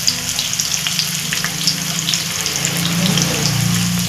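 Sliced onions and green chilies fry in hot oil in a pan for egg curry, giving a steady, close, loud sizzle that swells slightly toward the end, with no talking.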